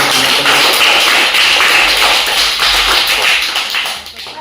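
A room of students breaks into loud applause for the winner of a school cabinet election, a thick continuous roar of clapping hands up close that holds steady and fades slightly at the very end.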